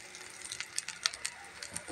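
Eggplant slices coated in rice flour and gram flour fry in a little oil in a frying pan, giving a soft, steady crackling sizzle with small irregular pops, faint and close.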